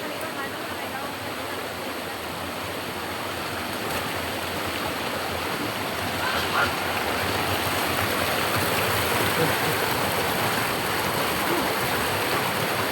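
Steady broadband roar of a waterfall at a swimming spot, loud and continuous throughout, swelling slightly midway, with faint voices and splashing mixed in.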